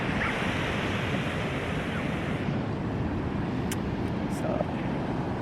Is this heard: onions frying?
no